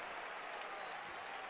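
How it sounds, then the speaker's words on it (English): A Carolina basketball crowd in Charlotte roars and claps during a timeout, a steady wash of applause and cheering from a large arena, quite faint and distant. "Carolina crowd on their feet here in Charlotte"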